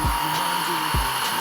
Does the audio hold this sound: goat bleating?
no